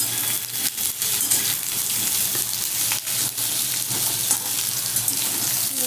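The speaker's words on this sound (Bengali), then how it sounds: "তেলে কালো জিরে আলুটা দিয়ে দিয়েছি" Potato pieces and black cumin seeds sizzling in hot oil for a tangra fish curry, a loud continuous crackling fry close up with occasional scrapes and clatters of stirring.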